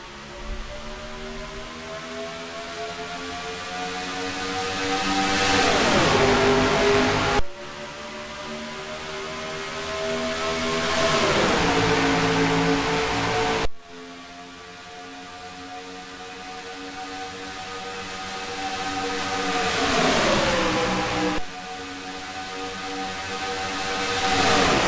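Race cars roar past one after another at the start of the Delta Airlines 500 at Atlanta Motor Speedway in a racing video game. Engine notes rise and drop in sweeping pass-bys, loud and close, with no voices.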